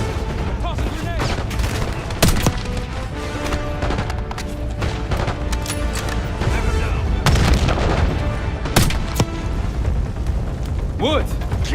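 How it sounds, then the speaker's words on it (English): Call of Duty: Black Ops 6 combat with a grenade blast and rapid gunfire, loud booms and sharp bursts over mechanical clatter, with characters talking throughout. "Tossing grenade"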